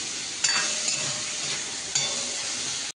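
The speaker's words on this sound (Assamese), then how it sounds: "পিঁয়াজ তেলে খোৱা হয়" Onions frying in hot oil in a home kitchen give a steady, close sizzle throughout, with a couple of brief stirring scrapes and clinks along the way.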